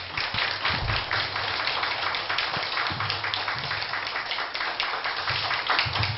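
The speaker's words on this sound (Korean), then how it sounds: "우리 김성우 교수님께 여러분 큰 격려의 박수 한번 부탁을 드립니다" An audience at a Korean humanities and philosophy forum claps for a professor after his lecture, scattered and fairly steady hand claps heard at moderate distance with low rumbles underneath.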